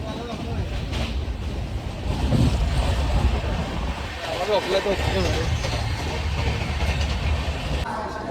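A steady low rumble with rhythmic rattling from rolling wheels, heard from close by, with people chatting over it.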